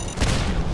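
A short, loud boom bursts out and rolls briefly, a single heavy explosion in the video game Fallout 4.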